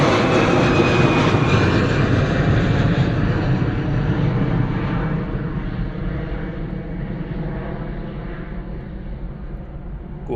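An Airbus A320 airliner departs Bristol Airport with a loud, steady jet roar close by that slowly fades as it moves away, with no talk over it.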